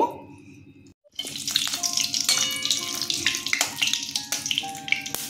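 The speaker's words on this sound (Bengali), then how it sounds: "আমি বাতাবি লেবু মাখার জন্য এখানে 3টে শুকনো লঙ্কা ভেজে নিচ্ছি" Three dried red chillies frying in a pan, a bright steady crackling sizzle that starts abruptly after a brief quiet moment and continues close up.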